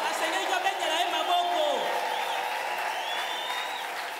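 Church congregation applauds and cheers during worship, a continuous crowd roar with clapping, voices and whoops blending into one sound at steady volume.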